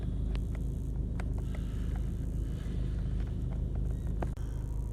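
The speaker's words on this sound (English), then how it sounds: "I'm in my car and on the way to the dealership" Car driving on a road, heard from inside as a continuous low rumbling hum with small bumps and clicks, steady and close throughout.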